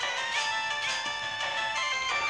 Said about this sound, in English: I really need to turn off notifications before I record.